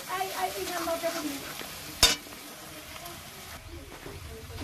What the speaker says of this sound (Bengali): রসুনটা এমন ভাবে তেলে ভেজে নিতে হবে যেন তরকারিতে রসুনের গন্ধটা না আসে